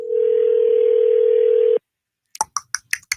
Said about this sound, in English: Hold on, I'm making a phone call here.